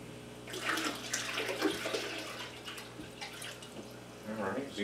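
Water is poured from a 3-liter portable pitcher into a Jack Dempsey aquarium during a water change, a continuous splashing, gurgling pour that swells and fades, with a person talking over it.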